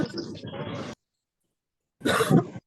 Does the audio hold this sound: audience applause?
no